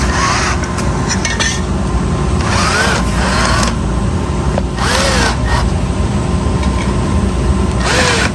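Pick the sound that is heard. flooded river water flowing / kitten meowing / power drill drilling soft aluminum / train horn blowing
power drill drilling soft aluminum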